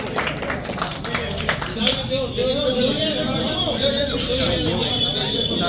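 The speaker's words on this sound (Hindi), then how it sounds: "मोहसिन भाई के लिए पहले जोरदार ताली होनी चाहिए।" A rooftop crowd at a kite tournament in Kanpur claps for Mohsin in a burst of loud applause that fades into murmuring voices and someone talking.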